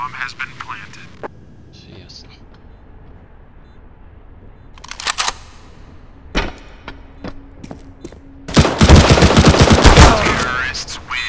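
Galil rifle fire in Counter-Strike: GO on the Nuke map, heard as scattered sharp shots followed by a loud, rapid automatic burst near the end, with players talking over it.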